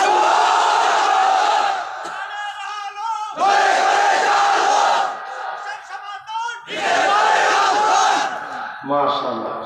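A large crowd at an outdoor Islamic sermon gathering in Comilla loudly chants the takbir slogan in three roaring bursts, separated by brief quieter gaps.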